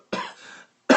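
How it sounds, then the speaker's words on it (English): A single person coughs: one harsh, close cough followed by a brief pause and the start of another sharp burst. "you can't even breathe for coughing"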